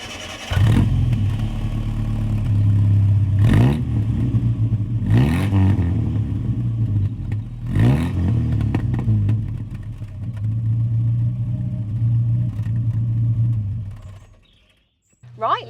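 A 1960s Hillman Super Minx Mk3 runs outdoors, heard from outside, with a loud steady engine drone and several sharp revs blipped over it. Birds chirp in the background, and the engine cuts off near the end.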